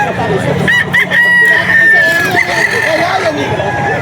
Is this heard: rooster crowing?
yes